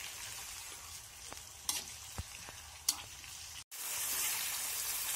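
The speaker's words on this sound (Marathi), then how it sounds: "उकळतंय तेल." Homemade ayurvedic hair oil boils in a pan over a medium gas flame, giving a steady close crackling sizzle broken by a few sharp pops and one brief dropout, with no talking.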